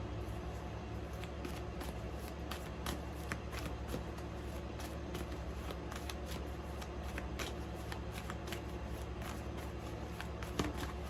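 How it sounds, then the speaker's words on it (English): Tarot cards are shuffled close by, a run of soft riffling flicks and slides in an uneven rhythm, quiet with no talk. "So I'm going to shuffle some more and see what cards come out."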